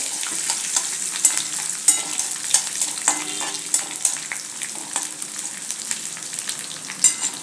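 White sesame seeds, curry leaves and chopped green chilli sizzle in hot oil as a tempering, with a steady spitting crackle and repeated scraping stirs throughout.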